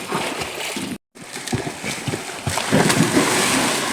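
Water splashes and sloshes in a resort swimming pool, a busy, close wash of churning water that cuts out for a moment and then returns more strongly.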